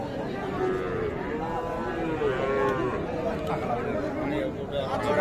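Young native bull calves low at a village cattle market, several drawn-out moos overlapping near and far over a constant murmur of crowd chatter.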